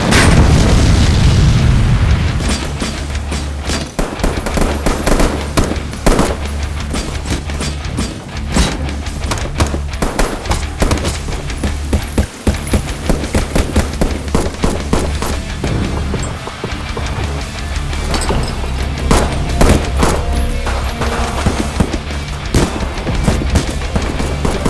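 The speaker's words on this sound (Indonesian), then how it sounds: "baku tembak pun dimulai" Film shootout soundtrack with loud, dense bursts of gunfire and booming impacts, sharp repeated cracks over a heavy low rumble throughout, no talk.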